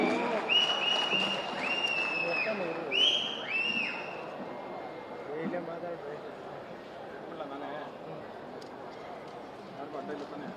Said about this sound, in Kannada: ಸ್ವಾಗತಿಸಿ ನಿಮ್ಮ ಜೋರಾದ ಚಪ್ಪಾಳೆಯಲ್ಲಿ